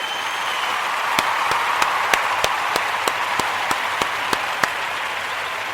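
Round of applause from an audience at a talk event: a steady wash of crowd clapping with one nearby person's loud, evenly spaced claps cutting through.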